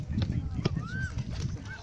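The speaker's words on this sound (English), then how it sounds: "There are ducks there." Waterfowl at the Aspire Zone lake give a few short honking calls, faint and somewhat distant, over low outdoor rumble and background voices.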